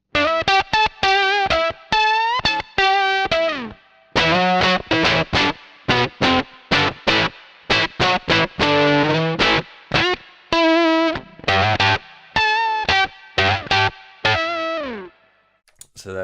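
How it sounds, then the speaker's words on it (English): An electric guitar runs through a Dr. No Effects TVL Octavia octave fuzz pedal. It plays a fast, choppy riff of loud, buzzy distorted notes with a bright upper-octave edge and sharp stops between phrases, with no talk. "if we roll it back a bit, you get more of the upper octave sound"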